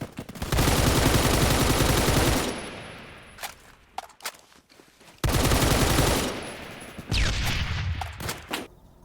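Automatic fire from an RPK-74 light machine gun in the game Phantom Forces, two loud sustained bursts of about two seconds each separated by a pause with scattered single shots and distant pops.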